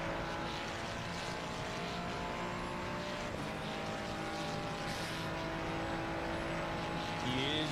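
A Mercedes-AMG GT3 race car engine on track drones loudly and steadily from close by, its tone holding with slight pitch shifts throughout and no break.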